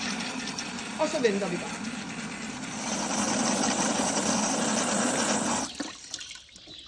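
A water pump starts up and pours water over a rim into a bucket, a steady broadband rush lasting several seconds before cutting off, with a short spoken phrase near the start.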